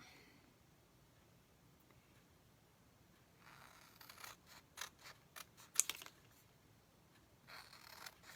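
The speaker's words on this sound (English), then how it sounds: "You take your letters and you cut them apart." Scissors snip apart chalk font transfer letters in a quiet room, a run of short crisp cuts and faint paper rustles starting halfway through, close and fairly soft.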